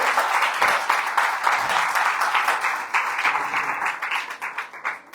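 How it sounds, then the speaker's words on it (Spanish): A church congregation applauds at a family-day service, a close, full burst of many hands clapping that gradually thins and fades over a few seconds, with no talk over it. "Dale un fuerte aplauso a nuestro Dios en esta hora."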